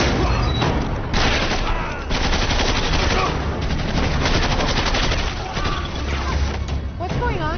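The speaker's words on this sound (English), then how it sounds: "who's shooting?" Dense, loud automatic gunfire from an action movie battle scene, bursts of rapid shots rolling continuously with crashes and booms, voices shouting faintly beneath the barrage.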